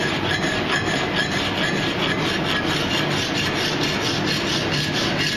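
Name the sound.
cross-filing a metal tasting spoon with a file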